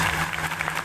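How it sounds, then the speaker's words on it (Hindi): Congregation at a live worship service in Rahim Yar Khan claps loudly, a brief dense burst of applause over a low sustained hum. "जोर से ताली बजाएं"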